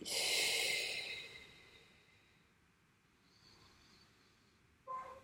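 A long, breathy exhale during a breathing exercise, loud and close at first and then fading, followed by a quieter breath and a brief faint sound at the end.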